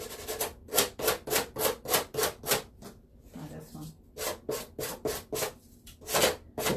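Fine grit sandpaper rubs in quick, rhythmic back-and-forth strokes, a close, raspy scratching with a brief pause midway. A voice speaks softly during the pause.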